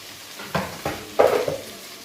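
A home cook stirs curry in a frying pan, a few distinct scraping strokes of a spoon against the metal over a soft background sizzle, close and alone.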